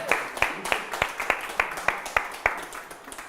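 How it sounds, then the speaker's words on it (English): Rhythmic hand clapping from an audience at a live leadership presentation in Miami, about ten evenly spaced claps in steady unison, with faint crowd murmur underneath. "Give yourselves a round of applause"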